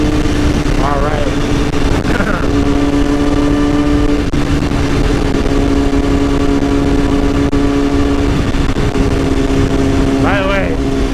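A 2010 BMW S1000RR motorcycle rides through downtown Houston, its engine droning steadily with rising and falling pitch under loud, continuous wind rush, while a rider talks over it.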